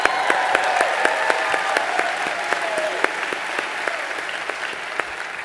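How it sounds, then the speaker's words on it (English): An audience at a live talk breaks into sustained applause, dense many-handed clapping with sharp individual claps poking through, steady and fairly loud for several seconds before easing slightly. "let's give a round of applause for that"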